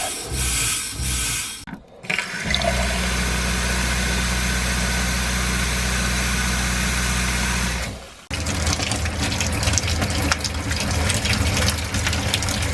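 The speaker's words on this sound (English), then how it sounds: "we're going to do that now on all the 2 faucets in the shower and the tub" Hot water runs from the shower and tub faucets of an RV while the plumbing is being de-winterized. A steady, loud rushing stream rides over a low pump-like hum, cuts off sharply, then gives way to a rougher flow.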